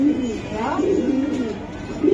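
Racing pigeons in a club loft cooing close by, a low throaty warble that swells and rolls for about two seconds, with faint background noise and hints of voices nearby.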